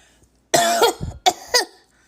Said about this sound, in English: I had to give y'all a fake cough on that one